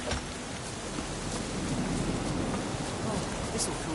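Steady rain with thunder rumbling in The Witcher 3, a dense continuous wash of rainfall and low rolling thunder filling the whole stretch, loud and close with no voices.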